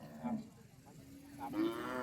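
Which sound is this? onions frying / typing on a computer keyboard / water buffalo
water buffalo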